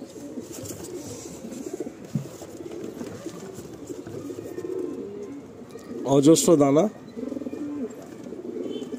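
Pigeons cooing in a loft, a soft burst of throaty cooing rising clearly for about a second amid low background murmur, with someone talking at times.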